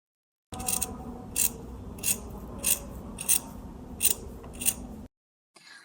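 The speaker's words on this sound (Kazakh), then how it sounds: "Осыны қиып алып тастаймыз." Scissors trimming excess fabric from a garment neckline, about seven crisp snipping cuts in a steady rhythm, close and clear with soft fabric rustle between them.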